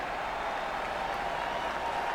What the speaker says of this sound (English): Oh man, I just love that sound from that crowd.